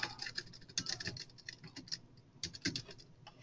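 Computer keyboard typing, a run of quick irregular key clicks with brief pauses and a few louder clusters, fairly quiet and close, alone without talk.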